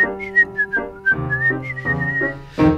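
A person whistles a bright, cheerful 1934 song, with clear, sustained melodic notes gliding from phrase to phrase over soft instrumental accompaniment.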